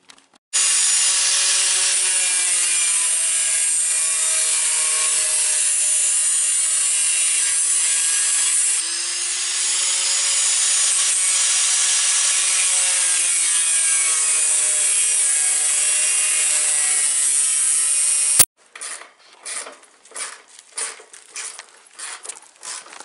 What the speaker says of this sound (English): we're gonna be cutting off these stubs with a grinder